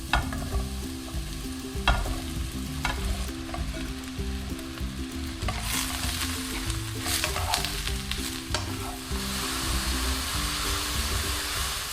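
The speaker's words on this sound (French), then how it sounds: "Je vais verser les champignons et les faire revenir pendant quelques minutes." Mushrooms fry in olive oil in a pan, a continuous close sizzle with occasional stirring clicks and scrapes throughout, no speech.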